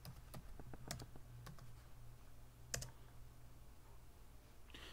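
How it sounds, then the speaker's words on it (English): Keys clicking on a computer keyboard as a password is typed, a quick run of sharp taps at the start followed by a few isolated presses, close and fairly quiet over a low steady hum. "We're going to put in our password again."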